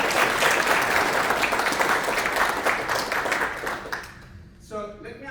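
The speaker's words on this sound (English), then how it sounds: "let's have a big applause for Ted and the team" A crowd applauds loudly and steadily for a few seconds, then the clapping thins out and a voice begins to speak.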